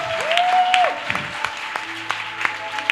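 A church congregation applauds and acclaims during a worship service. Scattered claps and cheers come in loud bursts over a held musical tone.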